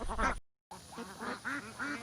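Ducks quack near a pond, several short nasal quacks in quick succession after a brief gap, close and moderately loud with no talk.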